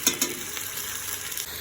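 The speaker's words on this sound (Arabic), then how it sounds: "هنا يتقلى" Vegetables fry steadily in hot oil in a pot for a vegetable soup, a continuous close sizzle with a couple of brief stirring scrapes near the start and no talking.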